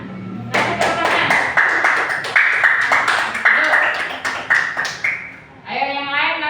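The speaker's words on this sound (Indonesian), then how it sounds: "Kasih tepuk tangan." Classroom applause from schoolchildren, rhythmic patterned clapping in bursts under a teacher's voice, ending with a sung or chanted voice.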